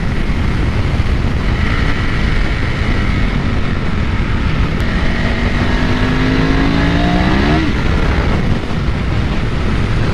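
A 2001 Ducati 996 motorcycle engine drones loudly and continuously while riding, with a rising tone as it accelerates partway through and heavy wind rush throughout.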